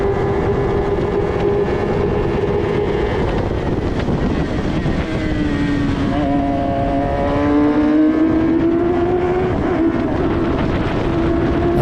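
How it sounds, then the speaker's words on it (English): An F1000 single-seater race car engine on the Cadwell Park circuit, a loud onboard high-pitched howl that climbs and drops through rapid sequential gear changes, continuous and close with no talking. "Just staying a bit quiet here, letting you enjoy the engine sound"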